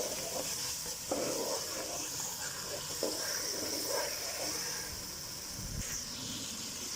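A ground spice paste for chicken pulao sizzles in a pan, a quiet steady hiss with a few soft scrapes of stirring.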